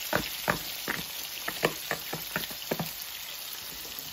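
Onion cooking in oil in a pan, heard as a quiet sizzle broken by a string of irregular sharp pops and scrapes, close and fairly soft.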